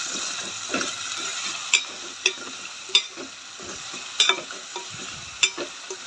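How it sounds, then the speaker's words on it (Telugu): Boiled goat leg pieces being stirred into a curry in a pan, with repeated sharp spoon scrapes and clicks against the pan over a low steady sizzle, close and without talk. "ఇప్పుడు దీంట్లోకి ఈ ఉడికిన కాళ్ళ ముక్కలు వేసుకోవాలి వేసుకొని బాగా కలుపుకోవాలి"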